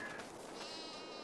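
Sheep bleat in a pen in Farming Simulator 22, a single drawn-out, wavering in-game bleat heard alone at moderate level over a steady background.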